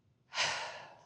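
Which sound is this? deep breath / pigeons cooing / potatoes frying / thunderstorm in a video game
deep breath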